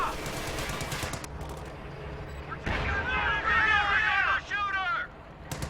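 Sherman tank firing on Grenadiers in a World War II strategy game, with a burst of cannon and machine-gun fire, whistling and clattering battle effects loud in the mix, over a steady low rumble.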